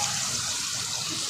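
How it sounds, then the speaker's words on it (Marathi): Water poured into a cooking pan holding fish curry with tamarind water and spices, a steady close splashing gush throughout with no voices. "मच्छी शिजण्यासाठी पाणी टाकलेलं आहे"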